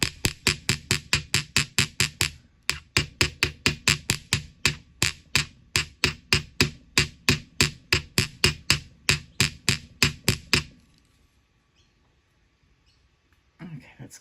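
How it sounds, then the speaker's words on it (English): Copper wire being hammered flat for a beginner necklace, a steady run of sharp metallic taps in quick, even rhythm, close and loud, with a brief pause near the start, stopping after about ten seconds and leaving near silence. "So I'm hammering and I'm dragging like this as I go."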